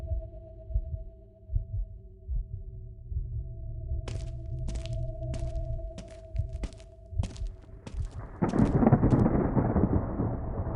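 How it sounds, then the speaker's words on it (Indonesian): A heavy downpour hisses in steadily toward the end, after low rumbling throbs and a faint tonal drone. Sharp ticking clicks come and go over them, and the rain rises abruptly and stays loud. "Ya Tuhan, hujannya sangat deras."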